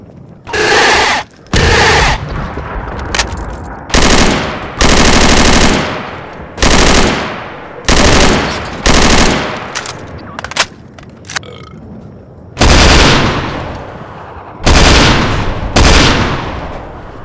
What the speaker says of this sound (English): Now when you are ready, shoot down those targets you see over there.